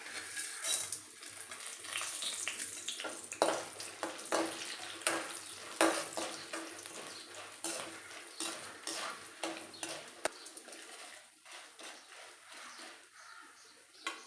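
Cashews, chana dal, urad dal and peanuts fry in hot oil for lemon rice, a continuous close sizzle broken by frequent scraping stirs and light clinks of a spoon against the pan, with no voices.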